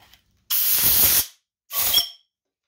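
Compressed air blows chips out of a half-inch head stud hole drilled into an LS engine block. Two sharp hissing blasts sound close by, the first lasting under a second and the second shorter, with silence around them.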